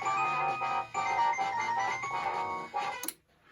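A bright, chiming electronic tune from a Williams System 12 pinball machine plays steadily for about three seconds as it reboots, then cuts off with a short burst of noise and near silence.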